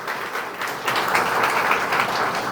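A church congregation claps hands in sustained applause during an Urdu-Hindi sermon, a dense, steady wash of many hands filling the room for the whole stretch with no voices over it.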